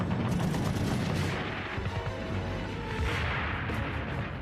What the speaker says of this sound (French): Elles sont immédiatement prises à partie par un feu nourri.